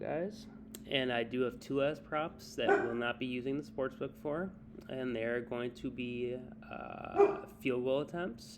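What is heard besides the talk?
dog barking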